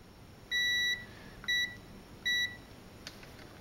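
Three short electronic continuity beeps from a multimeter testing capacitors on a FritzBox router board, evenly spaced and faint, over a quiet background hiss.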